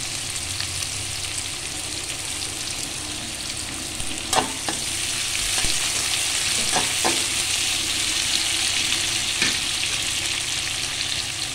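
Chopped onion and green chili frying in a pan, a continuous bright sizzle with several sharp scrapes and knocks of a spatula stirring, close by and steady with no talk.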